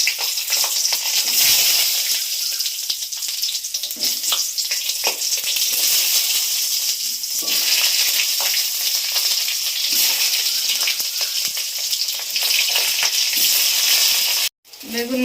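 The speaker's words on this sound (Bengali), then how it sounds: "এবার আমি বেগুনটা ভেজে নেব।" Eggplant frying in hot oil, a loud, steady, close hiss of sizzling that runs throughout with occasional small pops and crackles, no voices.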